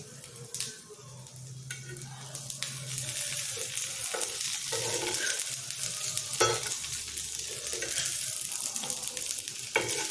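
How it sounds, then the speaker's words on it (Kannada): A stuffed snack toasts in oil on a pan over a low flame, giving a close, continuous sizzle with occasional scraping and stirring sounds. "ಈಗ ಸಣ್ಣೂರಲ್ಲಿ ಚೆನ್ನಾಗಿ ರೋಸ್ಟ್ ಆಗಲಿ"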